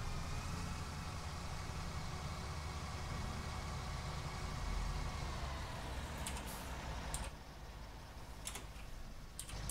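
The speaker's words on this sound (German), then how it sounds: "Ich habe den Motor nicht ausgemacht, seht ihr?" A tractor engine idles steadily in the farming game Farming Simulator 19, a continuous low rumble running throughout with a few brief clicks near the end and no talk.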